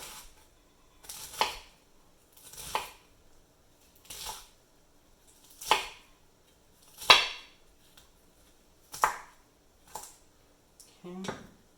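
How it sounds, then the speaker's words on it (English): A knife chopping cabbage for sauerkraut on a board, about eight separate crisp cuts spaced a second or so apart, close and clear against near silence. "And just chop it up."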